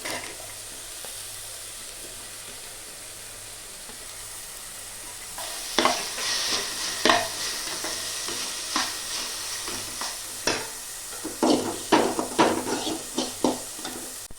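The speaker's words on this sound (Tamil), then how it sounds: "காய் ஆட் பண்ணிக்கலாம்." Chopped vegetables are tipped into a hot pan holding dal (chana and toor dal) for a South Indian kootu, setting off a soft sizzle followed by repeated scraping spoon strokes in an irregular rhythm, close and moderately loud.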